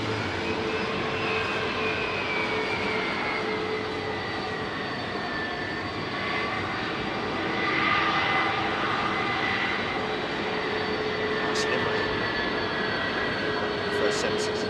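British Airways Boeing 767 on flight BA 81 passing close at Heathrow runway 27R, a steady loud jet engine roar with a rising whine that swells around the middle and holds throughout.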